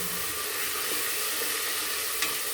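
Soaked hyacinth bean dal frying in hot oil in a pan, a steady broadband sizzle that holds evenly throughout with a faint stirring scrape near the end, no voices.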